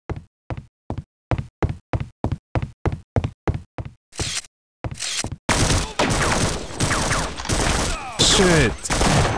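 Gunfire from Half-Life: Opposing Force, opening with a steady string of about a dozen evenly spaced single shots, then a dense, continuous barrage of overlapping blasts with game noise.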